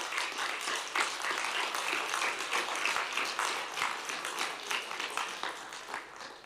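Audience applause at a genocide forum in Yerevan, a roomful of hands clapping in brisk, even rhythm, moderately loud and sustained without a break.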